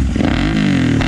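A Royal Enfield Interceptor 650 motorcycle with an aftermarket exhaust revs in a brief, loud, throaty burst close by.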